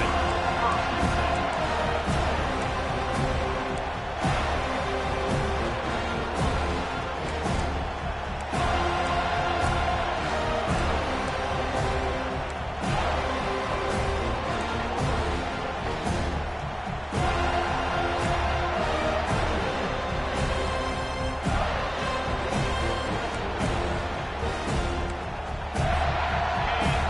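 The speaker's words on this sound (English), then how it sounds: "This crowd bringing an ear-splitting welcome to their visitors." A stadium crowd at a Hokies college football game keeps up a loud, continuous roar and cheering for the whole stretch, with a commentator talking over the din.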